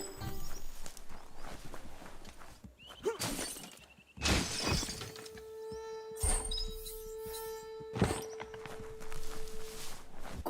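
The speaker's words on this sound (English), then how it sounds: "You shouldn't worry about smashing up the box." A box being smashed up in a video game: a few sharp cracking, shattering hits spaced several seconds apart, mixed with footsteps and a sustained electronic tone in between.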